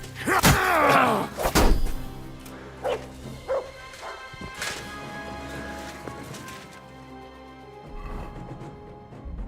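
A dog in the medieval video game Kingdom Come Deliverance II barks loudly several times in quick succession during a fight, followed by thuds and scattered game sounds.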